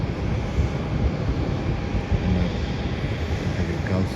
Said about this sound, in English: Next flight is going to be departing is a flight to Christchurch with Qantas Airlines Boeing 737